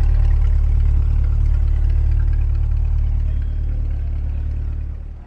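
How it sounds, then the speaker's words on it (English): A steady, deep engine rumble idles evenly and fades slightly toward the end, a Corvette sports car's exhaust burbling at rest. "You can hear the exhaust sound out of it."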